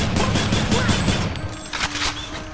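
Gunfire from the gun weapon in the action video game Hades, a rapid clattering volley of close, loud shots with a few brief gaps, mixed with game effects and no speech.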